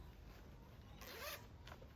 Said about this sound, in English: There is actually a zipper